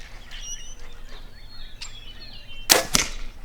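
Two sharp whooshing snaps of an arrow fired from a bow ring out close together near the end, after faint bird chirps.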